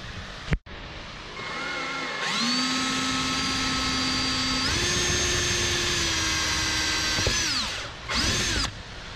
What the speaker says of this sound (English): center out our hole here for our camera, drill our hole